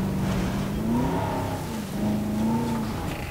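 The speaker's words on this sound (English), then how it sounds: "You don't have to rev the engine." A vehicle engine revs in the video game Jurassic World Evolution, its loud, close drone swelling and dipping in pitch over a few seconds.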